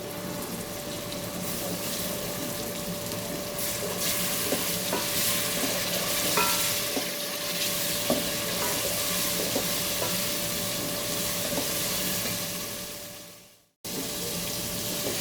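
Garlic-ginger paste sizzling steadily in a pan for potato pulao, with scraping spoon strokes stirring it throughout before a brief dropout near the end.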